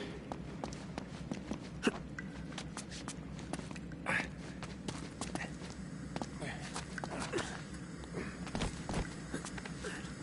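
Footsteps wade and splash through shallow water in the Uncharted 2 game world, a steady run of soft sloshing steps and scattered clicks at moderate level with a low ambient bed underneath.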